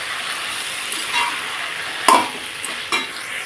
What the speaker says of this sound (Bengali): তেলটার মধ্যে এঁচোড়টাকে দিয়ে হালকা একটু নেড়ে ফেলে নামিয়ে নেব